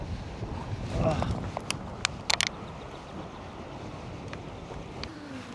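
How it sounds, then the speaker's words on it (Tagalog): Steady blustery wind noise roars over the outdoor ambience, with a few brief sharp knocks in the middle. "Lakas ng hangin."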